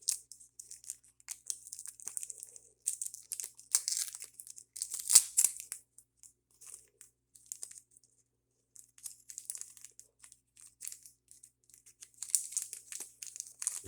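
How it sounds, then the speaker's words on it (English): A paper seed packet being torn open and handled, giving quiet, irregular crinkling and crumpling bursts spread across the stretch, with a sharper tear near the middle, close and soft, with no voices. "So I'm just going to tear this packet open."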